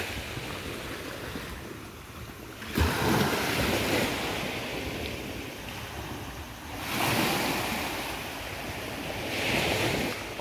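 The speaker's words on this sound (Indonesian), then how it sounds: "Ombaknya ya" Sea waves at high tide roll in along a shore, a broad continuous rush of surf with several louder swells breaking close by, mixed with wind buffeting the microphone.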